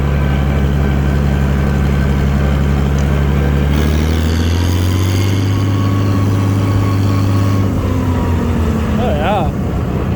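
A Massey Harris 102 tractor engine running for the first time in ten years, a steady low rumble whose pitch rises briefly as it revs and then settles, loud and near with wind noise outdoors.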